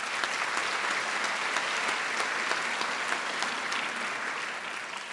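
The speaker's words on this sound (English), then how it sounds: "They deserve a big round of applause." A crowd claps for the UTRGV pep band at an Edinburg campus presidential update, a dense, continuous round of applause that fades slightly toward the end.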